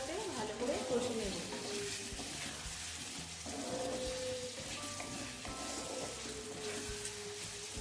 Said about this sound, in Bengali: আলুগুলো মশলার সাথে ভালো করে কষে নেব